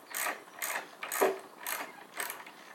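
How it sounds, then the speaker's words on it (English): A ratchet wrench with a 9/16 attachment tightens a bolt on a longboard drop-through deck, making about five evenly spaced bursts of close, crisp ratcheting clicks. "I'm going to take our 9/16 Allen wrench attachment"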